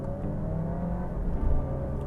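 Alfa Romeo Giulia 2.0 Turbo Veloce engine building revs under acceleration, a steady throaty drone heard from inside the car over road rumble.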